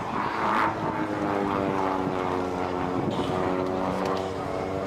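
A display aircraft flies a smooth barrel roll during an air show, its steady propeller drone holding at moderate distance throughout the roll with no talk over it.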